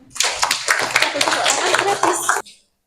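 A crowd claps together in a burst of applause lasting a couple of seconds, with a few voices underneath, then it stops abruptly.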